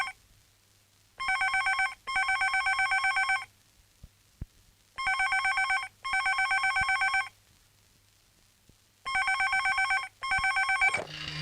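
A telephone rings in repeated double bursts, three pairs in all, loud and electronic, with quiet pauses between them.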